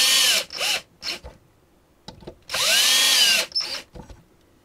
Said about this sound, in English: I'll just pop in those screws now.